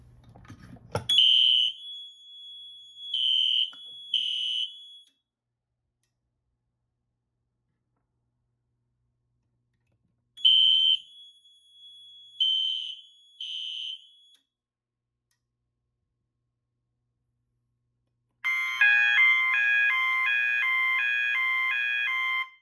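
A Notifier SFP-400B fire alarm panel sounds in short bursts of steady, high tones, pausing, repeating, then switching to a different warbling pattern; nearby, with no talking.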